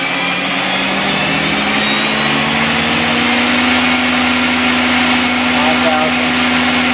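A Mazak QT-20 universal CNC lathe spindle, slightly vibrating because the machine is not secured to the floor, spins up to its 5,000 RPM top speed: a loud, continuous mechanical whine that climbs steadily in pitch and then holds.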